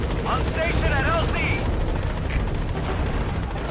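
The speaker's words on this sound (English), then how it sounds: "Alright, the chopper's touching down." A helicopter touches down in Metal Gear Solid V: The Phantom Pain, its steady rotor roar filling the scene loud and close, with game voices and radio chatter layered on top.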